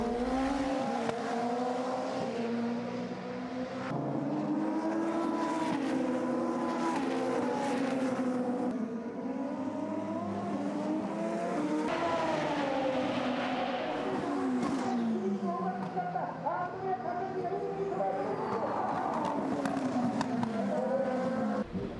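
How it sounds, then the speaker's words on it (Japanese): Super Formula race cars scream past on track in the 2015 Round 3 race, high-pitched engines rising and falling in repeated passes, heard from a distance and fairly faint. "アンドレア・カルダレッリ選手とバトルを繰り広げます。"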